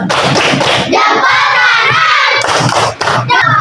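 A group of children in a classroom clap in rhythm through a chant, loud and close, with excited shouting voices blending into the sharp, steady hand claps.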